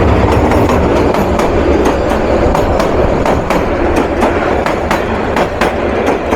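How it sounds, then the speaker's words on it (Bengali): The intercity Bijoy Express, running from Chittagong to Jamalpur, passes close by at Manikkhali station during a crossing. Its wheels beat a loud, steady clickety-clack over the rails throughout, with no talk. "চট্টগ্রাম থেকে জামালপুর অভিমুখী আন্তনগর বিজয় এক্সপ্রেস"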